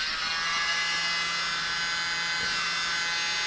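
A mini blower blows down onto poured paint with a steady, high-pitched electric whine that holds a constant pitch throughout, close and alone.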